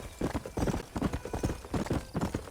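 Horse hooves clip-clop in a steady rhythm from a horse ridden in the video game Red Dead Redemption on Switch 2, close and fairly quiet, with no talking.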